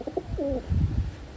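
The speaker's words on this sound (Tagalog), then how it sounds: "Ay, may kalakihan na ibon mga kalapatids." A medium-to-large pigeon with purple eyes gives a few soft, low coos close by, with a brief rising call in the middle and no voices.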